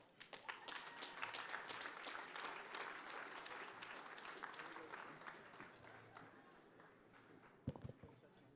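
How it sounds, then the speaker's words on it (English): An audience at the 2015 Urban Heroes awards dinner claps in a sustained round of applause that slowly thins and fades, with a single sharper knock near the end. "One more round of applause for Herbert, please"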